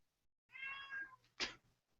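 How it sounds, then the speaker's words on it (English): A cat gives one close, clear meow, then a short sharp sound follows. "It was a cat."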